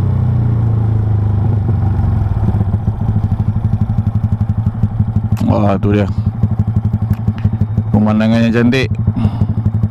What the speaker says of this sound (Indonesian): Ok, so tak ada masalah untuk motor ni panjat bukit.